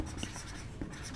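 Pen or chalk scratches softly while a physics definition is written out by hand in a classroom lesson, short irregular strokes and taps heard close and fairly faint, with no voice.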